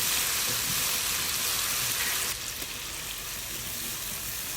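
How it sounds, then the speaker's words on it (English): Vegetables sauté in a small amount of oil left over from frying plantain, giving a steady, close sizzling hiss that drops slightly in level halfway through. "The oil I use in frying the plantain, so I had to reduce it, and leave just a little. So that's what I'm using to saute these vegetables now."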